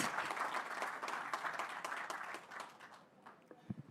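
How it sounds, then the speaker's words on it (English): A warm round of applause at an official office launch event in Rwanda, many hands clapping steadily from a moderate distance and fading out toward the end, with a few closer taps at the finish. "Let's give him a warm round of applause"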